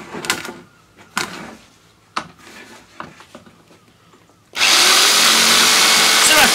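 A power tool, likely a drill or saw, cutting turbine blades out of bamboo: scattered knocks and handling noises first, then a loud continuous whirring that runs steadily close by to the end.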